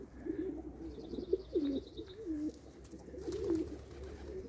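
Pet pigeons coo close by, a few soft rolling calls in a gentle rhythm over a quiet background, with faint chirps now and then.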